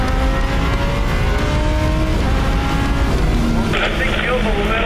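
Supercar engine droning loudly on a race track, revving through the mid-range with a sluggish feel, a sustained close roar with shifting pitch.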